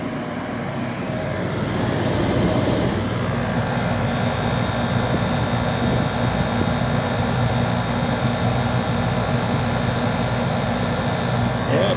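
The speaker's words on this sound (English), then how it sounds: "Hear the compressor running?" An air conditioner heat pump compressor runs with a steady, broad mechanical whir, starting slightly softer and then holding a constant drone, with some background noise and faint voices mixed in.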